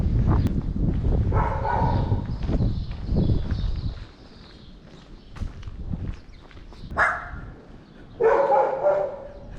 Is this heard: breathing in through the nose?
no